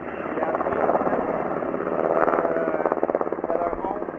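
A CH-146 Griffin military helicopter sits close by at a Camp Wainwright exercise, its loud, steady rotor thump and turbine whine continuous throughout, with a voice speaking over the din.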